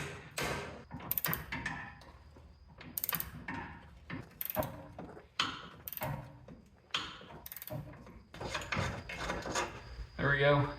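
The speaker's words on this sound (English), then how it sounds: "It's already slipping, so I'm gonna have to use the bolt extractor." A 17mm bolt extractor driven by a 24mm socket on a slipping rear bumper bolt of a 1994 Chevy K1500 gives repeated ratcheting clicks and metallic clacks, coming in bursts with pauses between them.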